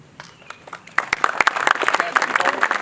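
Audience applause for the Friends of the Blue as they stand at an outdoor dedication ceremony at Blue Sulphur Springs, starting as scattered claps and swelling into steady clapping after the first second.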